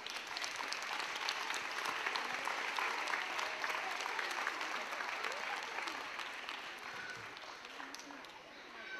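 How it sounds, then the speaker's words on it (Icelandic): A school audience at a birthday sing-along event applauds, a dense, steady clapping that holds strong throughout and fades slightly near the end, with voices mixed into the crowd. "Gefið þeim gott klapp."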